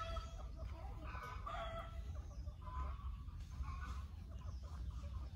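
Chickens crowd around ant eggs and peck at them, giving soft, scattered clucks at a moderate distance over a steady low outdoor background.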